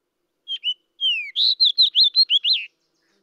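A fox sparrow sings a short, clear whistled song: two brief opening notes, a longer sliding whistle, then a quick run of bright, slurred notes. The song is close and alone against silence.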